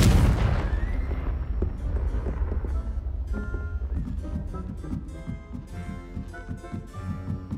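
Incendio and Confringo fire spells cast in a Harry Potter video game, opening with a loud burst of flame and blast that fades into crackling, clattering impacts and debris over the game's background.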